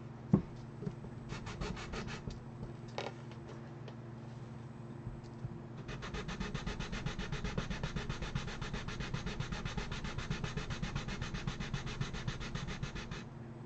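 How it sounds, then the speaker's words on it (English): Rhythmic scraping of a sanding block rubbing back and forth on a plastic model kit, a few short strokes first, then a long steady run of quick strokes. "We're gonna have to pull out the big guns. Sanding block time."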